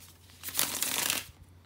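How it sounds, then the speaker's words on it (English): A brief, soft burst of tarot cards being shuffled, a riffling flutter lasting under a second, quiet and close. "So just shuffle the cards"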